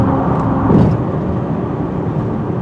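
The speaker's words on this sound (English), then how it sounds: "It sounds like a 3-cylinder, but" The three-cylinder engine of a 2021 Buick Encore with CVT drones loudly and steadily from inside the cabin as it accelerates, a low, even hum with no talking.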